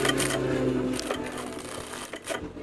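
A sewing machine backstitches along the hem of a lace skirt, a quick close mechanical whirr of needle strokes that runs, pauses briefly and resumes, quiet and with no talking.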